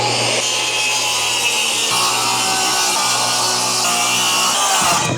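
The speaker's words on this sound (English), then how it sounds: "I'm gonna go to the edge and put my saw here because I don't really wanna cut into the joist a 1/16 of an inch below." Saw cutting 3/4 inch plywood for a shed skid base, a loud continuous rasping buzz of blade through wood held steady for several seconds before winding down.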